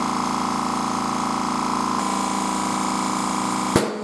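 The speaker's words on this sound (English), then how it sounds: "there's the compressor kicking in" An air compressor runs with a steady droning hum while a tire is seated during a 2018 Kia Soul tire change, continuous and close, ending in a sharp click.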